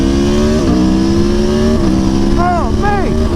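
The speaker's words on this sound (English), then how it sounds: "that V4 engine is absolutely awesome." A V4 motorcycle engine revs loud and close, holding a steady drone before several sharp throttle blips rise and fall near the end.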